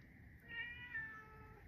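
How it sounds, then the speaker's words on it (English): A cat gives a single drawn-out meow indoors, faint and somewhat distant, over a low background hum with no talking. "the kitty's here. I'll go feed you right now, kitty."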